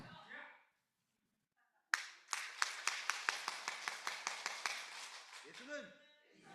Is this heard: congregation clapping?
yes